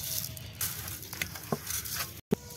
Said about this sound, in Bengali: এখন চালটা ভেজে নিব।